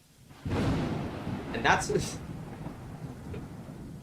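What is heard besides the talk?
thunderstorm, video game The Letter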